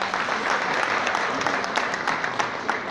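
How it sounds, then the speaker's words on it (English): A graduation ceremony audience at the Palais des Congrès claps for the best student, a steady, dense round of applause heard at a moderate distance. "Clap for her."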